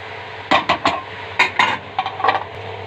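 Chicken liver and gizzards with tomato being sautéed in a pan, heard as a handful of sharp metallic clinks and scrapes from a utensil stirring against the cookware over a low steady background.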